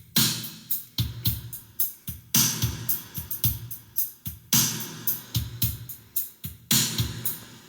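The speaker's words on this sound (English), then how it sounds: "what you're hearing is the Nautilus creating that drum track" A programmed electronic drum beat from a Korg Nautilus synthesizer plays alone, with punchy kicks and crisp snare hits in a steady rhythm, each hit trailing off into a reverb wash.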